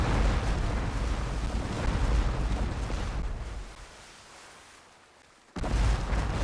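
Cannon fire against a ship in the Port Royale 2 sea battle game, a dense rumbling barrage of booms that fades into a brief lull before another loud burst.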